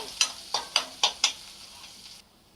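Onion frying in oil with mustard seeds and cumin, a quiet sizzle broken by five evenly spaced stirring scrapes in quick succession, then fading to a soft hiss, close by with no talking.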